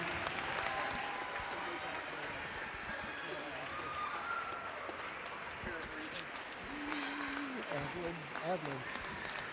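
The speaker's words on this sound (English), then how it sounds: "How about a big round of applause?" A crowd in a high school gym claps for seniors at a girls' basketball game, steady applause mixed with cheering voices, whistles and a public-address voice speaking over it.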